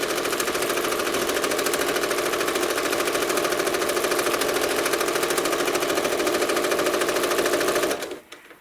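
A home sewing machine runs fast and steady, stitching quilted feathers in a continuous loud whirring hum with a rapid needle rattle, then stops abruptly near the end.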